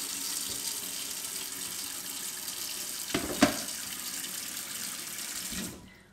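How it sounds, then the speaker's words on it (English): Dishes washed with homemade soap in a kitchen sink: steady, fairly faint running tap water throughout, with a couple of small clinks near the middle before the flow cuts off at the end. "So I'm going to give you a washing up demonstration here, just to show you exactly what I mean."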